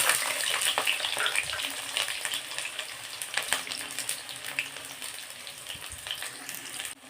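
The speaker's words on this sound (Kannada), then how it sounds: "ನೋಡಿ, ಈಗ ಎಣ್ಣೆ ಕಾದಿದೆ. ಈಗ ಈರುಳ್ಳಿನ ಹಾಕ್ಕೊತಾ ಇದ್ದೀನಿ." Onions sizzle and crackle in hot oil in a kadai, a continuous bright frying hiss with small pops throughout, close and steady before cutting off at the end.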